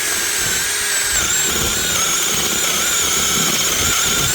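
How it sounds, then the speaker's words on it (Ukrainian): A mini cordless screwdriver drills into dry acacia wood in second gear, giving a loud, continuous high motor whine that holds steady without pause and has no talk over it. "Акацію не дуже воно хоче свердлити."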